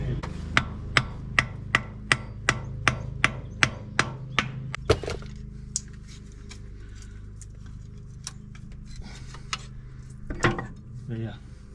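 A hammer strikes the bottom of a hydraulic pump on an old tractor, about fourteen sharp metallic knocks in an even rhythm, then a few scattered taps and a louder knock later.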